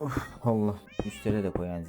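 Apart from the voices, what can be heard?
cat meowing loudly in Minecraft video game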